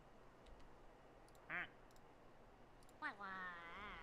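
Two short, squeaky quacks from a plastic toy duck in the video game Placid Plastic Duck Simulator, a brief one followed by a longer wavering one, over a low steady background hum.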